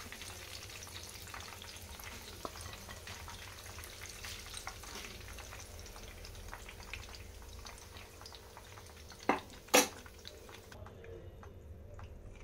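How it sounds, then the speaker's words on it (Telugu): Mutton keema balls fry in hot oil with a steady, quiet sizzle that runs throughout, broken near the end by a couple of short louder clatters, like a spoon or ladle knocking the pan. "కీమా బాల్స్ ఫ్రై అయ్యి తీసేసుకోవాలి."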